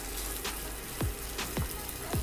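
Chopped onions hit hot oil in a pan holding fried ginger-garlic paste for an egg masala, a steady close crackling sizzle with a few sharper pops.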